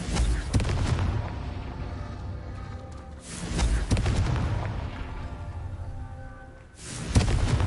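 Confringo fire spells explode in the video game Hogwarts Legacy, three loud booming blasts a few seconds apart, each with a deep rumbling decay, close and forceful.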